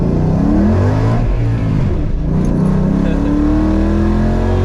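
A Coyote V8 swapped car accelerates hard in first gear, its engine roaring loudly and rising continuously in pitch close up, with no voices.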